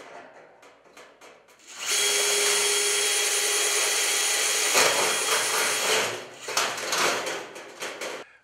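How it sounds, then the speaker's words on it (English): A power drill whines loudly and steadily for about four seconds while drilling a hole in a trash can to mount brackets, with quieter clicks and handling noises before and after. "Drill the bottom hole."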